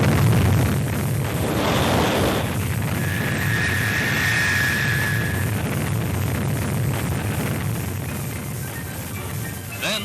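A Thor Delta rocket lifts off from Cape Canaveral with a loud, sustained roaring rumble that fills the whole stretch, a tonal whine rising briefly midway, and no speech.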